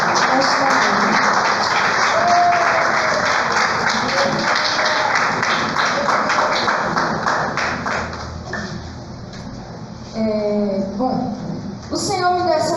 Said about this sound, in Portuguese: dê uma salva de palmas bem alegre para o Senhor nesta manhã